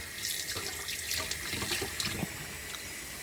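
Hot tap water pours into a sink while a dish is washed, a steady rushing stream close by with splashing and clinks from the dish, and no voices.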